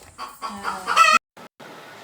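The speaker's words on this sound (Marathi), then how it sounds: "इकडे आजूबाजूला येणारा हा कोंबड्यांचा आवाज" Hens clucking close by in a quick run of squawky calls, then a sudden stop and faint scattered clucks.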